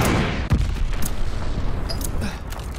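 Grenades explode during a bomb-defusal round of a team shooter video game. The battle noise is dense and loud, with sharp blasts and rattling gunfire throughout.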